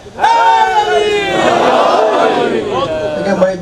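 A crowd of mourners at a Chehlum majlis for the martyrs of Karbala shouts a religious slogan in loud unison, voices swelling together and holding for about three seconds before thinning out.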